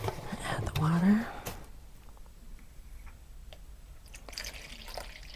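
Water poured into a bowl sitting on a kitchen scale while making sourdough, a short splashing pour with a rising tone near the start, then near silence with faint kitchen noise.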